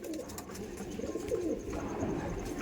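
Soft, low cooing from a giribaz pigeon with topaz-coloured eyes, repeated in gentle rolling phrases close by, with faint rustling and room noise behind.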